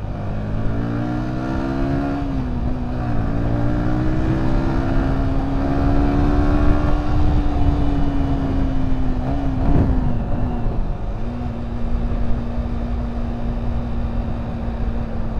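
A Yamaha New Vixion Lightning 150 motorcycle accelerating on a test ride, its engine note climbing steadily in pitch over a long pull with a brief dip partway through, loud and close with wind rumble.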